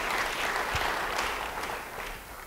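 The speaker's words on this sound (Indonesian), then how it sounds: "Beri tepuk tangan yang baik bagi dia." Applause from a church congregation, a dense broadband patter of many hands clapping steadily throughout and tapering slightly toward the end.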